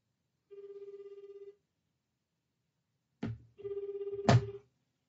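A telephone rings during a call: a one-second ringing tone, a pause, then a second ring broken by a soft thump, all quiet and isolated against silence.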